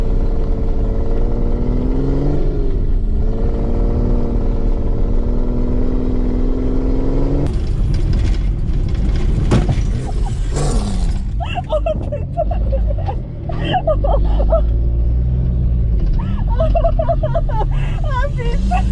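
A BMW 530d drifting sideways, its engine droning loud and steady and then revving hard with harsh, rising strain and clatter, while people talk excitedly over it.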